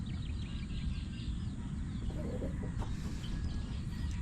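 Farm chickens cluck softly and intermittently at a distance over a steady low rumble of background noise, with no one speaking.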